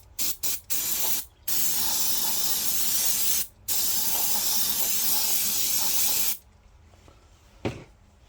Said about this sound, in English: I'm just gonna give her a spray.